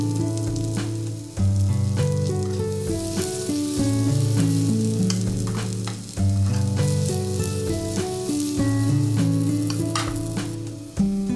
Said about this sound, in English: Arrange the sweet potato mochi in the pan and saute until golden brown